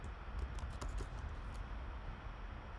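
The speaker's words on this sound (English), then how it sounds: "And just by typing shaft," Quiet, quick computer keyboard taps cluster in the first second and a half, then fade into faint background hum.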